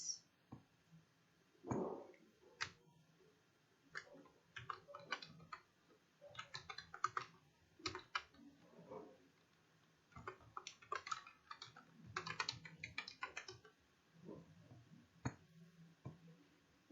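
Bursts of typing on a computer keyboard while entering an email address during payroll setup, with quiet clicky keystrokes coming in irregular clusters, close and fairly soft over a low background hum.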